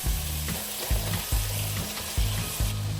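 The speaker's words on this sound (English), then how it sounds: "we're gonna put these cumin seeds into the oil" Cumin seeds and onions hit hot oil for a mixed vegetable dish, giving a close, steady frying sizzle with soft scrapes of stirring at regular intervals and no voices.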